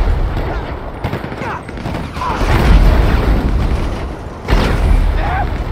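Bazooka rockets and explosions rumble through a GTA 5 gunfight, a dense, continuous barrage of booms and blasts with a heavy low-end roar, a louder burst near the end, and someone talking over it.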